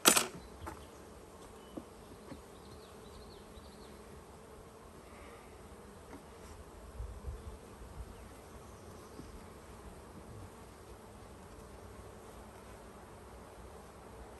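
Honey bees from a caught swarm buzz in a soft, constant drone, with a few faint knocks and shuffles near the start; no voices.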